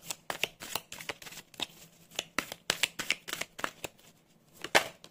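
Oracle cards are shuffled and one is drawn from the deck, producing a rapid series of crisp card flicks and riffles that come close and in uneven bursts, with no talking.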